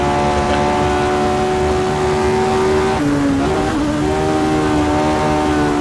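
A race car driven by a roughly 500-horsepower V8 holds a loud, steady engine note close by, with a brief dip in pitch partway through before it settles back to a sustained drone.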